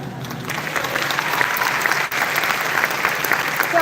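A live audience applauds with dense, continuous clapping that stays loud and steady throughout, with a brief dip near the middle.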